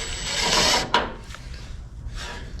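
Metal screws are threaded back into the headlight assembly of a 1973 Mercury Comet, with close, small ratcheting clicks and scraping taps, including a brief sharper knock partway through.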